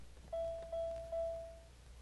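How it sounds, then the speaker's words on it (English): Three clean electronic chime tones from the door lock switch of a 1996 Buick, evenly spaced and each decaying smoothly, heard alone against a quiet interior hum. "a chime sounds 3 times when the door lock switch is pressed."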